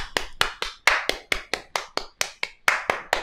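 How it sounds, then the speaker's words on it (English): Hands clap about fourteen times in a brisk, fairly steady rhythm, each clap sharp and close with nothing else behind it. "Everybody clap your hand."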